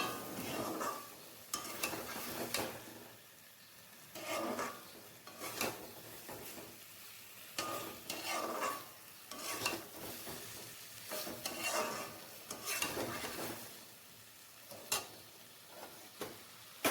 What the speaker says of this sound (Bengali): স্বাদ মতো নুন দিয়ে ভালো করে নাড়াচাড়া করে নেব